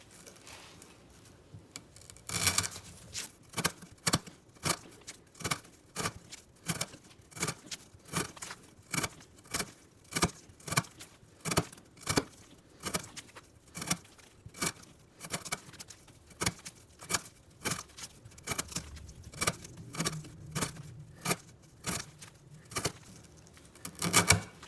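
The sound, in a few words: knife cutting 1/2 inch twisted rope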